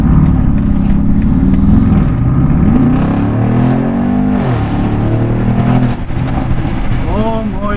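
A BMW X6 M50i, a V8 SUV, idles with a deep steady rumble, its engine note rising and falling as it revs on a street, while someone talks close by throughout.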